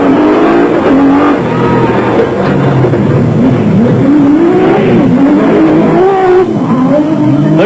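Nissan Hardbody Super Truck with a V6 engine pulling off at peak revs at the Barberspan off-road race start in South Africa, a loud, continuous close-up roar whose pitch swings up and down through the gears.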